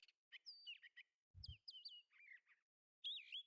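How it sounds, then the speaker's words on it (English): Birds chirp and tweet in the video game Arknights, with several bright, quick calls arriving in short bursts and gaps between them, fairly clear and close, with no talk over them. "Nice birds."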